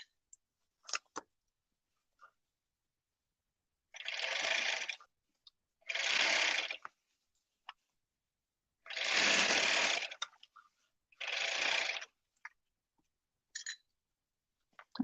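A sewing machine stitching waistbands onto garments runs in four separate loud bursts of rapid stitching, each a second or so long. Quiet gaps with scattered small clicks and handling taps fall between the bursts.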